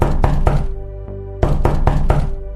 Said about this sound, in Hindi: वह धीरे धीरे दरवाजे तक पहुंचा और कांपते हाथों से दरवाजा खटखटाया।